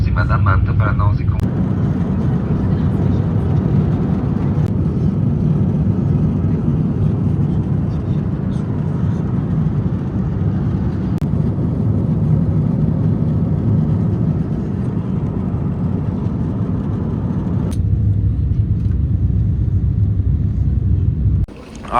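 A passenger airplane landing at Heathrow Airport, heard from inside the cabin as a loud, steady low engine and air roar that persists throughout, with a few brief knocks and a slight drop at the end.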